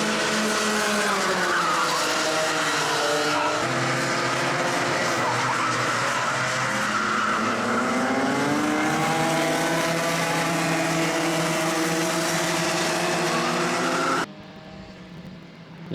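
Race cars lapping a circuit with an oversteering chassis, loud continuous engine wail with shifting pitch and tire squeal, holding steady before cutting abruptly near the end.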